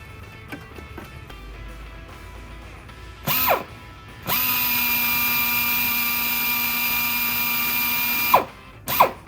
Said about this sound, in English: So we're just gonna screw this in.